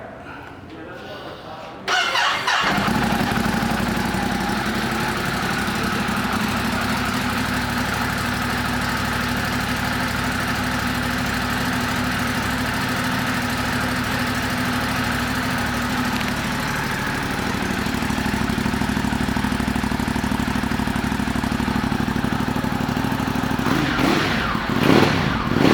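A 2019 Ducati Monster 821 motorcycle engine starts after a brief silence, then idles with a steady, loud, rumbling throb that continues for the rest of the clip.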